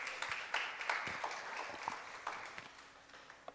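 A church congregation applauds during a sermon, a scattered run of claps that starts fairly strong and gradually thins and fades over a few seconds.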